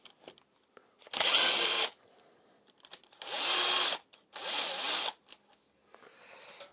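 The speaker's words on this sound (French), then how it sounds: "Je prépare mon carton et je commence à dévisser mes boulons." Bolts being undone on a Honda CBR125R motorcycle engine during a clutch and oil strainer job, heard as three loud, close bursts of a power tool, each lasting about a second or two, separated by quiet pauses with small clicks.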